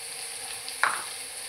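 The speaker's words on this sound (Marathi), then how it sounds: "आणि ते चमच्याने परतून घेते छानसं" Onion with chili powder frying in a pan, a soft steady sizzle with one brief close scrape of a spoon stirring it, quiet and without talk.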